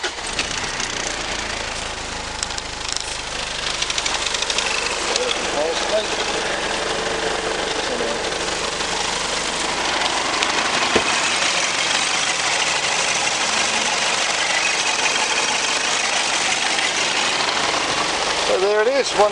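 A Mitsubishi Triton ML with a 3.2-litre 4M41 turbo diesel idles steadily at a wrecking yard, a continuous close rumble that holds level throughout, with a voice speaking over it.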